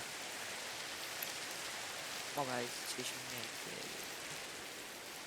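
Steady rain falls in Minecraft, an even hiss across the whole stretch, while a person speaks briefly over it midway.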